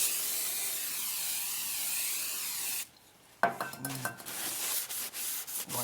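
Brake cleaner sprayed onto Audi A3 rear brake discs: a steady, fine hiss holds for a few seconds, stops, then scraping and clinking handling noises follow close by.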